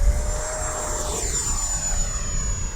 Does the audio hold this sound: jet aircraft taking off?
yes